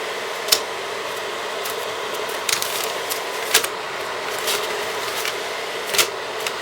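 A small tabletop spray booth's extractor fan runs with a steady, even whoosh of moderate loudness, broken by a few faint clicks and taps.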